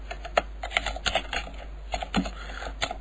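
Someone types keywords on a computer keyboard, with irregular clusters of crisp key clicks and short pauses between words, close up and without talk.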